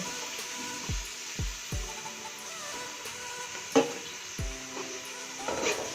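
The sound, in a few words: ghee sizzling in the pan for matar pulao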